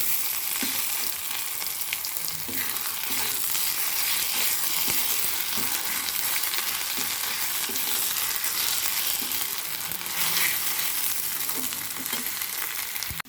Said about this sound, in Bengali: এরপর এর মধ্যে আছে রসুন আর জিরের পেস্ট, এটা দিলাম। এটাকে ভালো করে আমি ভেজে নেব, সঙ্গে মিশিয়ে নেব।